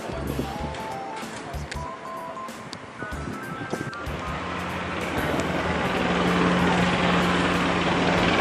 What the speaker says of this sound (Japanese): ジェット戦闘機が4機、滑走路へ移動しています。